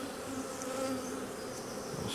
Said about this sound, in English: Let's get the bees off the bottom here